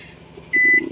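A household microwave oven gives a single clear electronic beep, short and close, over faint background room noise.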